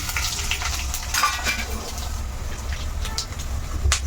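Hot sunflower oil bubbles and crackles in a pan with ingredients frying, a steady low sizzle broken by faint clinks of a utensil stirring.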